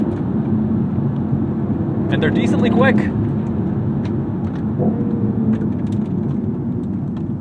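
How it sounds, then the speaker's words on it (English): A BMW i8 with an inline three-cylinder engine drones steadily from inside the cabin, a brief growl rising at a gear shift, while someone talks over it. "These shifts, you get a little bit of that growl, that snarl from the inline 3."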